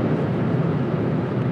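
A Ford Kuga with a 225 hp engine held at high revs while driving gives a steady, loud, broadband rumble with a deep low end, unbroken and without any talk.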